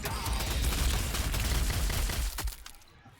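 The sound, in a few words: gunfire shots in the video game Warhammer 40,000: Sanctus Reach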